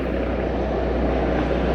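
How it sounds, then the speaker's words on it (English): Helicopter flying overhead a few blocks from a hospital, heard as a steady, dense broadband rumble and whir that holds constant throughout, fairly loud and without voices. "Helicopter flying over the top."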